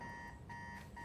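An electronic alarm rings steadily in the Spider-Man 2 video game on PS5, a repeating two-tone beeping pattern with short pauses, fairly faint and heard alone.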